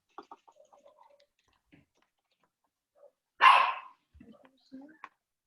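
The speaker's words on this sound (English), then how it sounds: "Sorry, that's my dog." A single loud, close dog bark stands out, surrounded by quiet scattered clicks and soft vocal sounds before and after.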